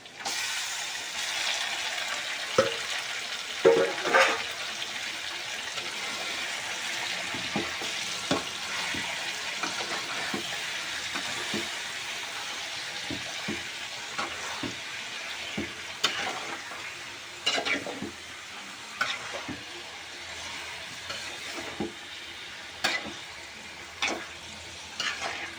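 Chicken and half-cooked potatoes fry in a pan for a Gujarati chicken-potato curry: a steady sizzle runs throughout, broken by repeated scraping and clattering as the mix is stirred.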